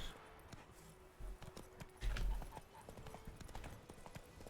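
Hooves of Roach, the horse in The Witcher 3 video game, clopping quickly in a galloping rhythm, fairly faint with heavier thuds midway, under game sounds.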